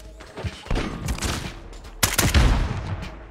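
Rapid bursts of automatic gunfire from a shooter video game, loud and close in two main volleys with a short lull between them, before the shots stop as the ammunition runs out.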